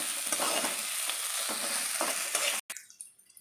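Steady hissing sizzle of onions sautéing in a hot pan with occasional stirring scrapes, cut off abruptly near the end.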